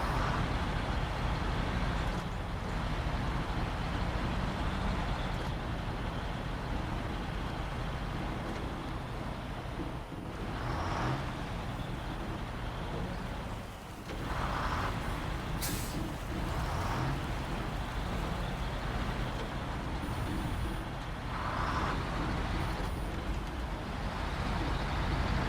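A SnowRunner truck grinds down a bumpy slope, its engine a continuous heavy rumble with thumps and jolts over the bumps, plus a few hissing bursts like air brakes, loud and close throughout.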